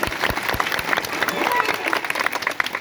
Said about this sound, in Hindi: एक बार पुनः इस बच्चे के लिए सभी जोरदार ताली बजाओ।